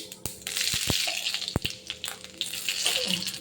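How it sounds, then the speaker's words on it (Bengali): Cumin and radhuni seeds crackle and hiss as they drop into hot oil in a kadai, giving a steady close sizzle with a few sharp pops. "তেল গরম হয়ে গেছে, আমি দিয়ে দেবো সামান্য জিরে, সামান্য রাঁধুনি।"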